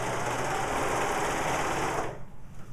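A serger stitches a seam while trimming the fabric edge, a fast continuous mechanical whirr close up that runs steadily for about two seconds, then stops abruptly, leaving quiet handling noise.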